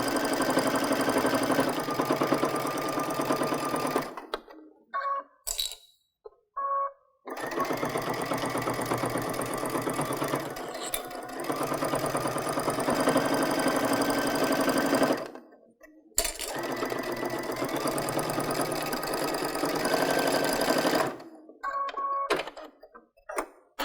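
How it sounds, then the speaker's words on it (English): A sewing machine stitches around the edge of patchwork stockings in three long continuous runs, stopping twice for a few seconds between them, loud and close with no talk. "So now when I start stitching around here, I'm going to be following along the stitching that I did when I basted around my stockings."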